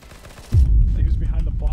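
Burst of rapid automatic gunfire from a P90 in Counter-Strike, a dense continuous rattle that starts abruptly and carries to the end, with voices talking over the game.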